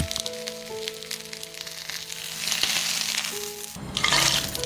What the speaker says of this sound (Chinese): 锅里的猪油不要浪费，把青椒和鸡蛋煎出虎皮